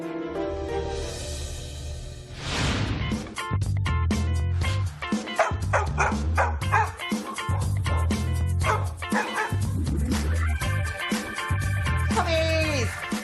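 Stray feral puppies yip, whimper and bark in quick overlapping bursts against a steady musical bed, with the high cries rising and falling close to the listener.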